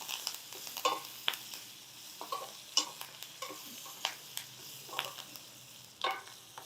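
Garlic, green chili and curry leaves fry in hot oil for a village-style dal tadka, a soft steady sizzle broken by repeated sharp scrapes and taps of a spoon stirring the pan, with no voices.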